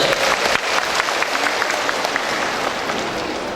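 An audience at a Halal Bi Halal gathering of the teachers' association PGRI Banyuasin claps steadily, a dense, even wash of applause sustained throughout with no talk over it.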